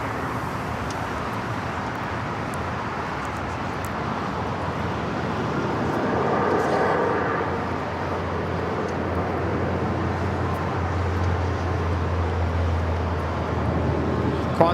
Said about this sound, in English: China Eastern, 777-300ER, heading back to Shanghai, rolling down the 24 left